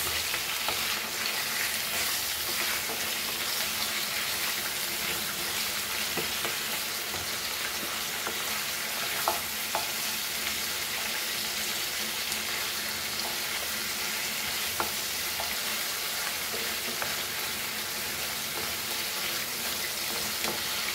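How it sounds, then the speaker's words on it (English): Goan prawn masala sautéing over high flame in a pan, a long, even, fairly quiet sizzle with occasional faint ticks of stirring throughout and no speech. "Just saute like this."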